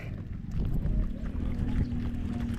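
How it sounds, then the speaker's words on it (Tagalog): Low rumbling engine drone of a boat underway on the sea, steady and fairly loud, with water and wind noise over it and no talking. "sakay na tayo sa bangka"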